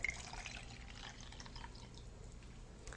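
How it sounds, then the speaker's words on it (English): Sterilized water is poured into a baby bottle, a soft, close, quiet splashing trickle lasting a few seconds with no talk. "First, you fill the bottle with the sterilized water."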